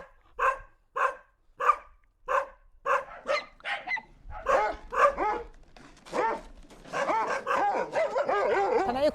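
A stray dog at a bus station that was hit by a car barks in a steady series of sharp, close barks, then turns into faster, strained yelps and whining toward the end.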